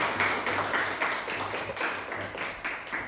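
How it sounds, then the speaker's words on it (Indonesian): Classroom of students applauding for a classmate at a school democracy session: a steady wash of many hands clapping, fairly close and continuous, with no talking over it. "Kasih aplaus dulu buat Habib."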